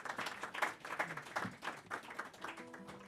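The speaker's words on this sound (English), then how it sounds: "Please give her a big round of applause." An audience claps for a singer at a Friday night concert. The applause is steady and moderately loud for about three seconds, with faint sustained musical tones creeping in near the end.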